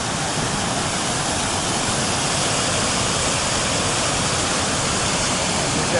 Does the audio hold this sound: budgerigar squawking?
no